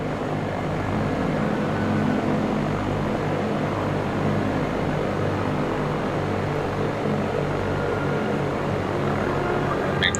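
Simulated Cessna 172 engine in X-Plane 11, a steady propeller drone holding loud and constant throughout, with no clear rise in power and no voices over it.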